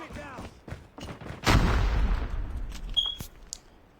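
Frag grenade blast and gunfire in the Call of Duty Mobile video game, a sharp booming explosion with a decaying rumble, preceded and followed by scattered shots and clicks at moderate loudness.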